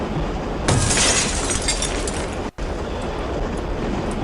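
A glass roof on a private train car shatters in the video game The Last Express, a loud sudden crash that settles into a sustained rumbling roar with a momentary cutout midway.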